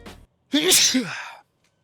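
A single close sneeze, sharp and breathy, preceded by a brief soft sound and followed by silence.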